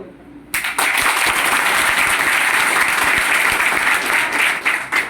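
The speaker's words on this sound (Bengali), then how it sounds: "নিজেদের জন্য হাততালি দিচ্ছিস" Audience applause at a motivational speech event, a dense burst of clapping from many hands that starts abruptly and holds steady, loud and close, with no talk over it.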